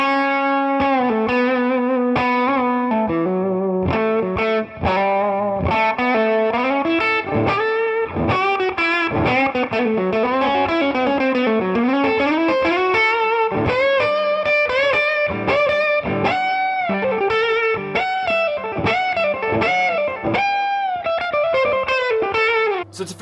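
Loud, distorted electric guitar with a thick fuzz tone plays a melodic lead line of sustained, bending notes, continuous and close.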